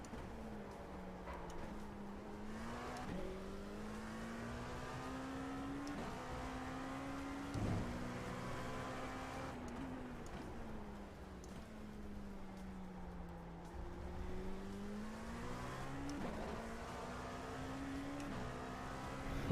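Race car engines in the iRacing sim at the Daytona 24 Hours, a steady drone of several cars with rising and falling pitch as they run in a line, moderately loud and continuous.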